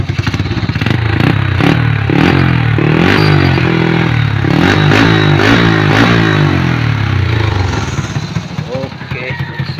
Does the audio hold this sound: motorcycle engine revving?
yes